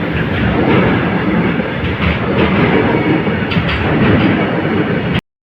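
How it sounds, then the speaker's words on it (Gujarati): A train rolls past a railway level crossing, a loud, close, continuous rumble with rhythmic wheel clatter that lasts several seconds before cutting off abruptly. "તો આપણે ફાટાકે ઊભા હતા અને આવી ગઈ છે ટ્રેન"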